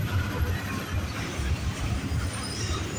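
A CN intermodal freight train rolls past Brantford VIA station, a continuous loud low rumble of wagons with rhythmic wheel thumps and a broad steady rail roar.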